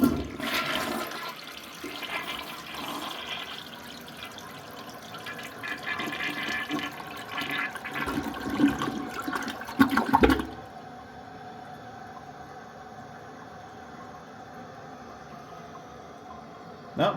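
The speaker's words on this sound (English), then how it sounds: "Has a very good flush." A toilet in a new house flushes with a loud rushing surge of water that drains off and gives way to a quieter refill hiss, while a person talks over it.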